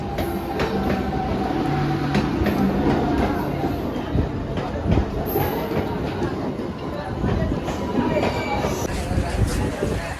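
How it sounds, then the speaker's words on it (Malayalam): An electric train pulls into a station with a continuous loud rumble of wheels and carriages rolling past, faint rail clatter throughout, and people talking nearby. "നമ്മുടെ ഇലക്ട്രിക്കൽ ട്രെയിൻ വന്നിട്ടുണ്ട്."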